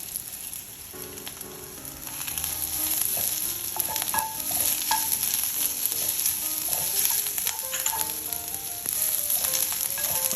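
Minced garlic and shallot sizzle and fry in a pan, most likely a Le Creuset tagine, for Thai green curry chicken. The hiss is steady and close, with occasional stirring scrapes and small pops throughout.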